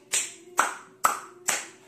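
Four sharp hand claps in a slow, even rhythm, close and loud in a quiet home room, each with a brief ringing tail.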